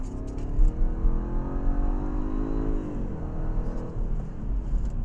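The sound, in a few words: 2013 Jaguar XFR-S 550 horsepower accelerating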